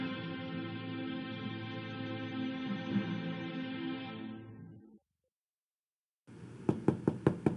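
Music plays and then stops, and after a pause comes a quick run of about five crisp knocks on a door in the Agatha Christie game Evil Under the Sun, close and clear.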